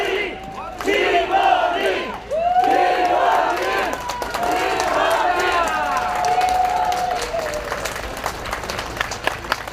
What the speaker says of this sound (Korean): 한번 큰 박수와 연호 부탁드리겠습니다